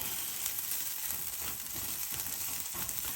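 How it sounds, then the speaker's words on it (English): Soyriso sautéing in a skillet gives a steady, faint, even sizzle with soft crackle and no voices. "just like saute up your Soyriso a little bit."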